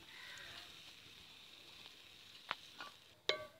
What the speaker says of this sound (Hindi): प्याज को 2 से 3 मिनट तक ऑयल में पकाएं और इसको साथ साथ हिलाते रहें